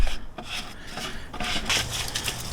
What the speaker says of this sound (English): And now you want to unscrew the cell stand.